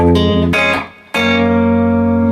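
A guitar chord strummed and let ring, then briefly muted, then struck again and sustained, played clearly and close.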